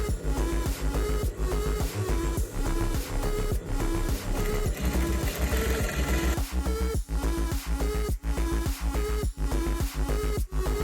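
A sewing machine runs steadily while stitching a butterfly ruched skirt, with a fast, even mechanical pulse held close and loud throughout and no voices.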